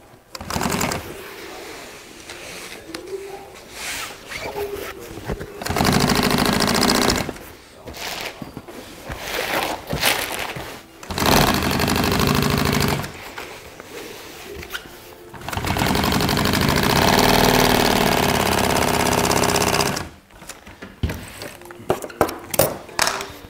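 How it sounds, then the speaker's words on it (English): A sewing machine stitches down a 2-inch bottom fold on an aft boat curtain for a 58 Carver, running in several loud bursts of a few seconds each, separated by pauses with handling noise and brief talk. "come right back and sew this bottom down"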